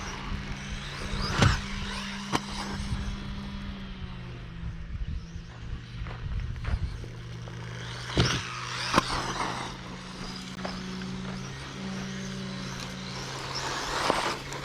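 A small RC car on a 3S battery, with a slipper clutch and spiked tyres, revs its electric motor in sharp bursts over a steady whine, loud and close, with brief surges as the throttle is touched.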